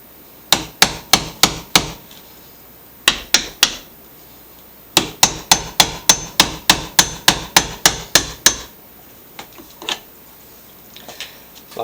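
A hammer strikes to break up the plastic wheel around a cog on a Toro Super Recycler mower, sharp close blows in quick rhythmic runs of four to fourteen hits separated by short pauses, with no voice.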